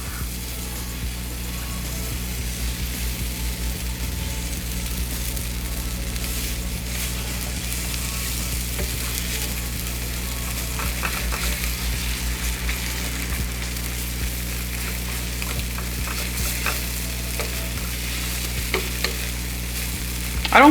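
An omelet with cheese fries in a pan with a continuous close sizzle, scattered small clicks and scrapes from utensils, and a low steady background hum.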